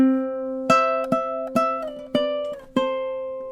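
Plucked ukulele notes pick out a melody at a moderate pace, each note bright and ringing over a held lower tone, played up close and alone.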